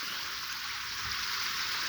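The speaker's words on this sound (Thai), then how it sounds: "อันนี้เป็นการทดสอบระบบออกระบบน้ำตก ไหลวนกลับนะครับ" Water from a recirculating waterfall pouring into a newly built holding pond for freshwater shrimp, a steady broadband rush of falling water that runs continuously without pause.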